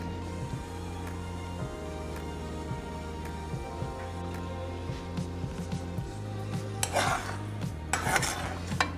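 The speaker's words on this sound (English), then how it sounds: "So you guys, we're just gonna give it a good stir." A spoon scrapes and clinks around inside a pot of boiling water in repeated stirring strokes, with a low steady hum from the stove beneath.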